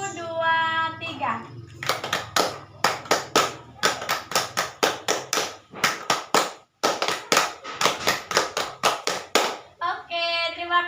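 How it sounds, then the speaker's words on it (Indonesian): A group of children performs the rhythmic Pramuka scout clap, with sharp claps in quick patterned bursts separated by brief pauses. A voice is heard at the start and again at the end. "Sekarang kakak ajak dulu kita tepuk pramuka."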